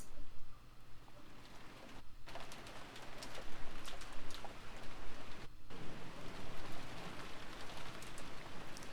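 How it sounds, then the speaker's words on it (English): Steady rain hisses continuously, with pigeons or doves cooing softly in the background. "The only voice that called after them was the sound of the rain."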